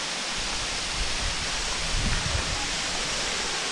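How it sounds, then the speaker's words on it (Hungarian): The Saarfall waterfall pours in a steady, full broadband rush, close and constant throughout, with a slight low rumble swelling briefly partway through and no voices. "Itt is vagyunk a vízesésnél."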